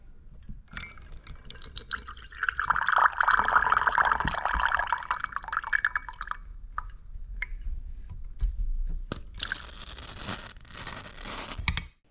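An espresso machine flushes water through its portafilter: a hissing, splashing rush swells after a couple of seconds, runs for a few seconds, then gives way to scattered drips, clicks and a final burst of spray before cutting off.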